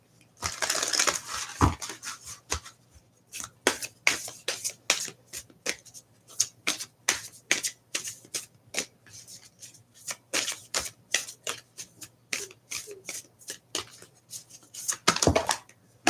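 An oracle card deck shuffled by hand, crisp rapid riffles and taps in an uneven rhythm, close and clear with no talking.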